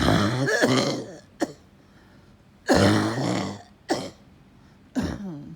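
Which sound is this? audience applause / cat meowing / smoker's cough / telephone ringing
smoker's cough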